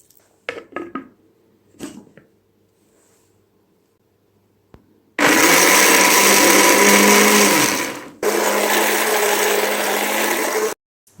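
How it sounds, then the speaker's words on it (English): A kitchen blender whirs loudly and steadily as it blends pomegranate into juice, running for a few seconds, briefly cutting out, then resuming at full speed; a few clunks and handling knocks come first. "for make a pomegranate juice I'm going to use blender"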